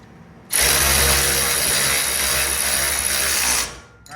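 A ratchet tightens bolts on a yard trailer, a continuous loud buzzing rattle that starts abruptly, runs for about three seconds and then cuts off.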